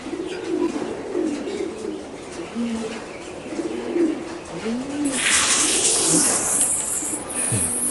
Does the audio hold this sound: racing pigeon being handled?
yes